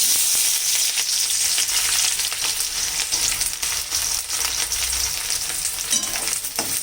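Onion frying in oil in a pan, a loud continuous crackling sizzle with occasional stirring scrapes, no voices.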